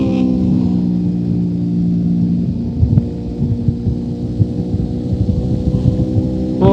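A 1999 Honda VFR motorcycle laps the Nürburgring Nordschleife, recorded onboard. Its engine holds a steady, loud harmonic drone with a slight shift in pitch, and wind rushes constantly past the microphone.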